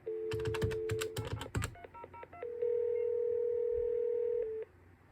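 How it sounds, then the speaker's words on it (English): Call waiting ringback on a custom TDM telephone switch built with Dialogic voice boards: a burst of rapid keypad dialing tones, then a steady tone that holds for about two seconds and cuts off cleanly near the end. "if you listen closely, the ringback has a little beep at the end of it"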